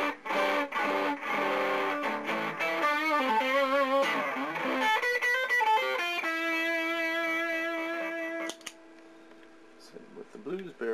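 Electric guitar through a Crowther Hot Cake overdrive pedal with the distortion turned up, stacked with an 808, playing sustained distorted chords and bends that ring out and fade near the end.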